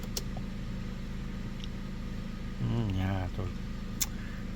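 An Opel Astra J with a 1.6 16V engine runs at idle after a timing belt replacement, giving a steady, even low hum, with a brief voice-like sound partway through.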